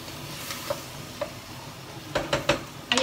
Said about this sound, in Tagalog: mas masarap yung ginigisi siya ng konti sa oil